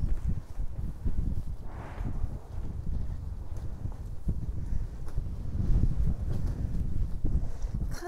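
Strong wind at the Utsunomiya Castle ruins park, buffeting the microphone in rough, continuous gusts with low rumbling bursts throughout.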